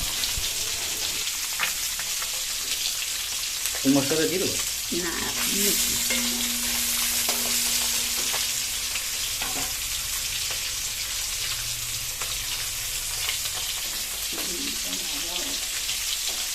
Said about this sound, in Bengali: এখানে আওয়াজটাও খুব জোরে হচ্ছে কারণ তেলটা খুব গরম হয়ে গেছে